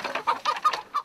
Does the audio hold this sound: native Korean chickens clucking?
yes